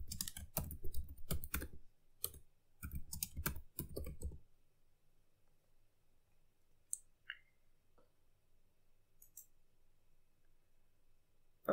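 Typing on a computer keyboard, a burst of rapid, close keystrokes for about four seconds, then near silence with a few isolated clicks.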